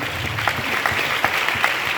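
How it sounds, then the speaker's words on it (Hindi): Scattered clapping from a gathered audience at a Smart Value network-marketing meeting in India, a few distinct claps standing out over a thin, steady wash of hand claps with no talk. "हम सबके चहेते मिस्टर बिपिन सर के लिए जोरदार ताली होनी चाहिए"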